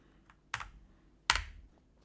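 Two separate, sharp keystrokes on a computer keyboard, close and isolated against a quiet background.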